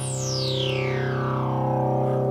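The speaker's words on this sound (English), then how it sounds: "A filter sweep with high res setting" A resonant ARP 2600 synthesizer filter sweeps steadily downward over a sustained buzzy drone of oscillators tuned to 1, 5 and 8, the sharp whistling peak gliding from bright to dark across a couple of seconds.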